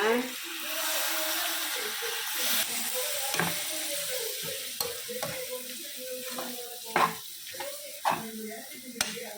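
Water is poured into a hot pan of frying squid masala, and a steady sizzle and bubbling are punctuated by sharp clinks and stirring knocks, while a voice speaks over the cooking.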